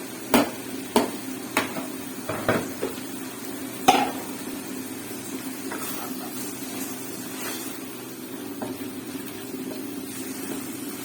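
Keema fries with onion and green chilies in a kadhai: a steady low sizzle under a few sharp spatula scrapes and clinks near the start, then a quieter continuous hiss.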